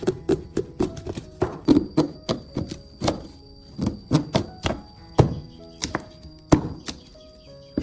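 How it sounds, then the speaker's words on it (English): A knife chops a corn cob into small pieces on a cutting board, giving a series of sharp, close thunks in an uneven rhythm of roughly two to three strikes per second, with no talking. "place the corn cob on a cutting board and cut into small pieces."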